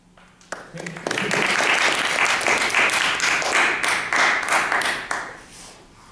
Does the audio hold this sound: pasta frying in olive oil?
no